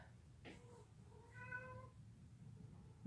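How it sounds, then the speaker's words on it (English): A cat meows a few times, soft and somewhat distant, over a low steady background hum. "you can hear my cat in the background"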